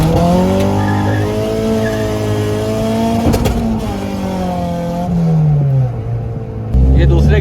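A Honda H22 engine revs hard through second gear during a VTEC crossover test, its note climbing and falling with tire squeal, loud and close, while someone talks over it.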